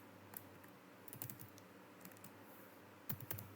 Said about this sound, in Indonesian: kita akan mengetik di bagian sini